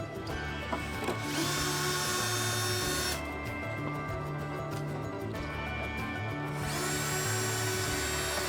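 A power drill drives screws into the wood of a raised garden bed in an urban backyard, with two long, loud whining bursts of several seconds each separated by a brief pause and clicking handling noise.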